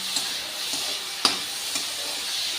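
Medium onions frying in mustard oil in a kadhai, a continuous close hiss and sizzle with a few soft stirring knocks, alone without speech.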